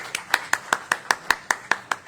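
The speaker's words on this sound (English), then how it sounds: "Go ahead and clap." An audience at a gathering led by Rev. Arthur Johnson claps in a quick, steady rhythm, about ten sharp, evenly spaced claps in two seconds, close and distinct with no talking.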